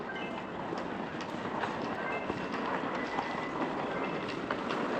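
Steady rumble and rattle of a Bangkok MRT Blue Line metro train in motion, with faint clicks and a muffled roar filling the whole stretch.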